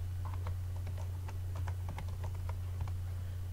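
Quick, light keystrokes on a computer keyboard patter irregularly over a steady low hum, close and fairly quiet, with no voices.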